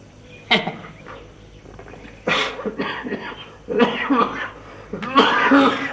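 A man coughs hard several times in a row, harsh raspy bursts spaced over a few seconds, close and loud with a throat-clearing quality.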